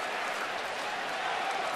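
A large crowd of about 46,000 at a Nationals–Orioles baseball game in Baltimore roars and applauds, a broad, distant, steady wash of cheering and clapping filling the stadium.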